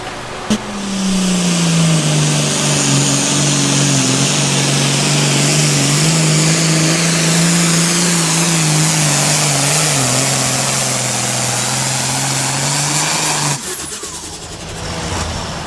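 A John Deere pulling tractor roars through a tractor pull run, its loud engine holding a steady heavy drone for about thirteen seconds before cutting off abruptly, leaving quieter background noise behind.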